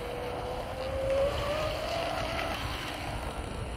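A radio-controlled Black Pearl sport hydro racing boat with a new Tenshock Evo2250 motor runs across open water in a blustery wind, giving a steady, loud, high-pitched motor whine with a slight rise in pitch and no speech.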